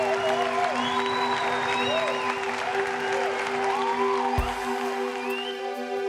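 A church congregation applauding, a continuous dense clapping that stays steady and fairly loud under a sustained musical tone and faint voices.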